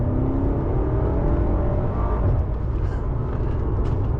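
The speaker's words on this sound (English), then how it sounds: "it's just crazy how quick this car is." A BMW F90 M5 Competition with its V8 accelerates hard in all-wheel-drive mode, a loud continuous engine roar with rising tone heard from inside the cabin, steady throughout with no speech.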